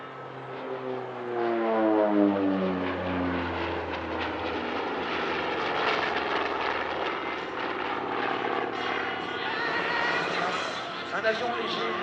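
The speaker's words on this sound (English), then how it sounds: "This aircraft is an OV-10B, a specialised unarmed target tug model developed for West Germany." OV-10B turboprop target tug flying at an airshow, a propeller drone with descending pitch sweeping past at mid distance as it passes, then holding steady, with a voice talking over it.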